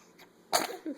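A single sharp sneeze bursts out abruptly in a quiet room during a baby's mealtime, followed by a short murmur of voice.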